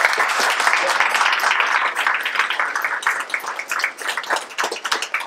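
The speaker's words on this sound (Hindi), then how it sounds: "सो तालियां यार एक बार फिर से।" Audience applause for the cast after a stage play, a dense wash of many hands clapping that carries steadily and then thins toward the end, with a voice faintly heard under it.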